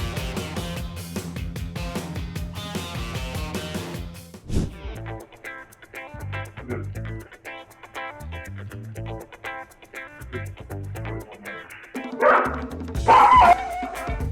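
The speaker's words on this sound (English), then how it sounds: "it's just barking" A police dog barks and yips at a car, its sharp calls mixed with background music and louder near the end.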